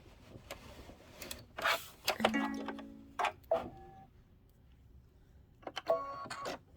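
A home embroidery machine works through a placement line in short mechanical bursts, whirring and clicking in uneven runs with quiet gaps between, close and fairly soft.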